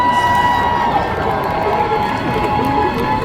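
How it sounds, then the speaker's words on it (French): Crowd at the final of the French Cosplay Cup at Japan Tours Festival cheering and clapping for the contestants, a loud, dense, sustained roar of shouts and applause filling the hall. "d'applaudir à nouveau l'ensemble de tous nos participants"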